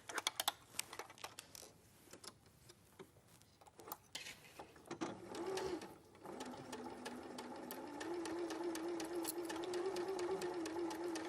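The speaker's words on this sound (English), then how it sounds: "I'm going to just sew all the way around here" A sewing machine stitches around the edge of a dog coat, starting with rapid clicking bursts, then settling into a steady, close, continuous mechanical whir that holds to the end.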